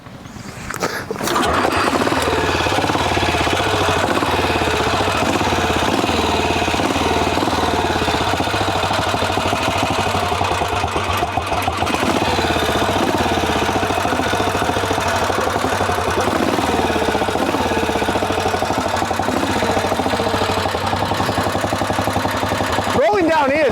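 A four-stroke Ariel Pre-65 trials motorcycle engine runs steadily, a loud, continuous, close drone that barely changes for over twenty seconds.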